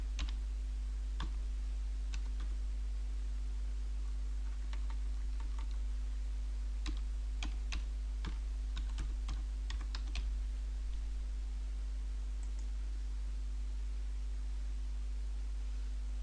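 Computer keyboard keys tapped to enter an admin login password, quiet irregular clicks in short bursts over a faint steady hum, then only the hum remains.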